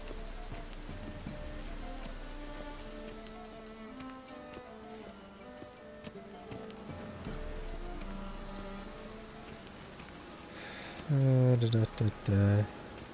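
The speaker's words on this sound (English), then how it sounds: "And it's raining again." Steady rain falls in the video game The Witcher 3: Wild Hunt, a soft continuous patter under game music, with a voice speaking loudly near the end.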